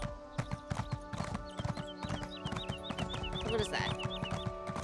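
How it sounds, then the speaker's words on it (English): Hoofbeats of a horse galloping in Elder Scrolls Online, a quick steady clip-clop rhythm close by, with music and a brief spoken question over it. "That is a person running on a horse."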